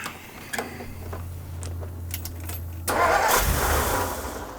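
A Ford Thunderbird Y-block V8 turns over with a few ticking cranks and then catches, settling into a rough, loud rumble close by.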